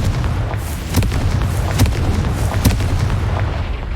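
Confringo blasting spell going off in Hogwarts Legacy, a dense rumbling barrage punctuated by several sharp explosive cracks at roughly regular intervals.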